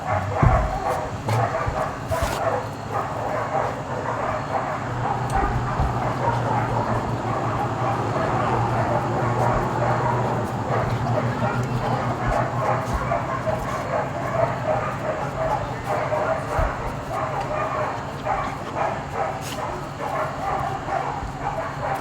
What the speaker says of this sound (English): There's some serious barking going on in there.